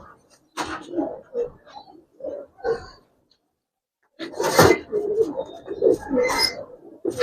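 Pigeons of Giribaz and colouring breeds coo at a pigeon farm in short, close, throaty bursts, falling silent briefly midway before a busier run of calls resumes.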